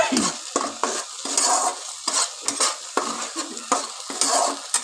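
Coriander paste sizzling and being stirred in a wok, a close wet frying hiss broken by repeated scraping strokes of a spatula against the metal pan.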